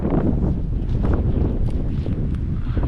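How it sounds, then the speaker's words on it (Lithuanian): Strong wind buffets the microphone outdoors during a pike fishing trip, a steady, loud broadband roar with gusty rustle and no speech. "dabar vėjas sustiprėjo"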